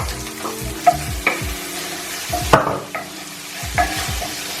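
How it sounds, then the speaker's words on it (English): Cooked prawns stirred into a sizzling seafood pasta sauce with tomato puree, a low bubbling fry under several close, thick scraping strokes and a few utensil taps against the pan. "Give that a nice stir"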